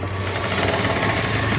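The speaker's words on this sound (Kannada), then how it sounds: "ಇವಾಗ ಇದನ್ನು ಸ್ಟಿಚ್ ಮಾಡ್ಕೊಂಬರೋಣ ಸುತ್ತ" A sewing machine runs steadily, stitching around the edge of a piece of waste cloth for a small tailoring project, its fast mechanical hum continuous and close with no voices.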